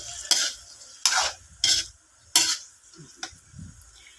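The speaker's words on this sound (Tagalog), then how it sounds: "Haluin natin ng haluin." A spoon stirs a boiling dish in a pot in four or five distinct scraping strokes with quiet pauses between them, close and fairly soft, with no voices.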